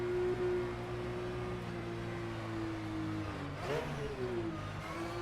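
Porsche GT3 Cup race car engine in rFactor 2 at Laguna Seca, a steady mid-pitched drone that dips and swells back up around a gear change, heard clearly with no talking over it.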